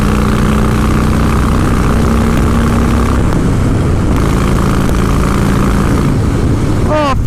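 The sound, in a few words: 2016 Harley-Davidson Breakout motorcycle accelerating on motorway, Stage 1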